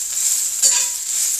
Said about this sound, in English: I'm going to let that saute a little bit.